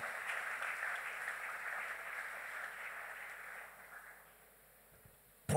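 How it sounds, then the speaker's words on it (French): A church congregation applauds and cheers for the Lord during a Sunday worship service, a steady wash of clapping and voices that fades toward the end before a sharp sound at the close. "Acclame très fort pour le Seigneur."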